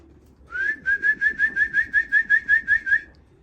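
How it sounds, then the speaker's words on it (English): A single racing pigeon coos outside in a quick run of about a dozen evenly spaced hooting notes, clear and fairly close, against quiet background. "I hear another bird outside."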